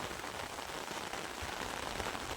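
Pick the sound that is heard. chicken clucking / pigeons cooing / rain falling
rain falling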